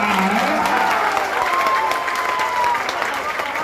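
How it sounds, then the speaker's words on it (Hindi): A crowd at an outdoor political rally in India applauds steadily, dense clapping with some cheering mixed in, and a voice carries over the applause. "उन सारे हिंदू भाइयों के लिए एक बार आप ताली बजाइए"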